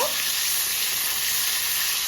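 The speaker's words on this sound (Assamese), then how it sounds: "ইয়াত মই তেলখিনি ভাজি আছো" Fish frying in a little oil gives a loud, steady sizzle, a continuous crackling hiss with no pauses, close up.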